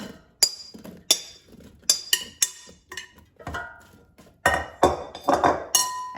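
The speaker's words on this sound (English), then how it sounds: "And now let's take out the air fryer basket and put zucchini in the air fryer." Zucchini pieces dropped into a metal air fryer basket, heard as a series of sharp clinks and clatters, close and fairly loud, in irregular bursts with brief pauses between.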